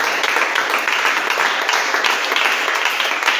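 Congregation applauding and cheering in praise during a church service, a dense, steady wash of many hands clapping close by with faint voices mixed in throughout.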